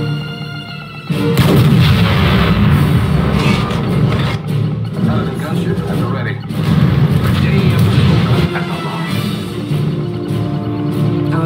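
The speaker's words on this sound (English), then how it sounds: "Cannon firing." Loud, continuous rumbling barrage of heavy cannon fire and booms in the video game Red Alert 3, naval map, that keeps going for several seconds with little letup, dense and close.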